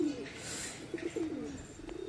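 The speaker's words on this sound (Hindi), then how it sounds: "तो कबूतर खुले रहता है, ऐसे ही आके उतर जाते हैं।" Soft, low pigeon coos repeat a few times at moderate distance, quiet against faint background hiss.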